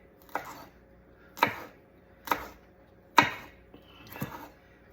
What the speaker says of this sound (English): for these hot peppers, I'm just cutting them very, very, very tiny